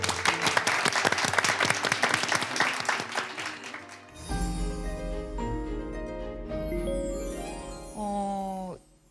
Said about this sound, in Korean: 힘내라고 우리 한 번만 박수.